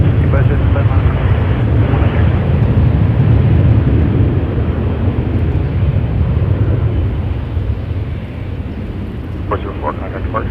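An airliner taking off from runway 23 at Toronto Pearson, a loud, continuous broadband jet roar that stays strong and slowly eases, with radio chatter heard over it.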